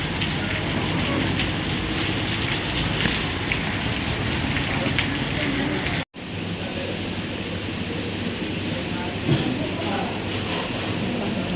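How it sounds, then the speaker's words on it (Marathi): Heavy monsoon rain near Mahad pours down with a dense, steady hiss that fills the whole stretch. It drops out sharply for an instant midway before the rushing downpour resumes. "पाऊस वगैरे खूप भयंकर पाऊस येते"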